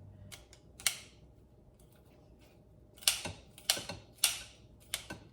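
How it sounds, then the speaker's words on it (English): Inexpensive kitchen scissors cut through bacon in a home kitchen: close, crisp snips, a couple near the start, then a quick cluster of four or five sharp cuts toward the end, with no voices. "I'm just gonna use these kitchen scissors"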